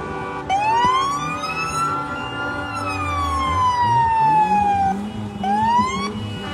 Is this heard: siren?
yes